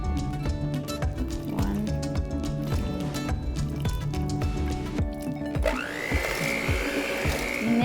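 Electric hand mixer beating carrot cake batter after eggs are added two at a time, a loud steady motor whir with rhythmic churning that shifts to a higher, smoother tone near the end.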